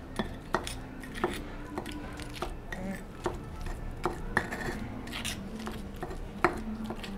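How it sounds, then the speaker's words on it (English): Avocado is mashed for guacamole in a bowl with a twisting motion, producing steady close-up scraping and squishing with repeated light clicks and knocks of the utensil against the bowl. "When you mash it up, make sure you do a little twisting, just like I'm doing."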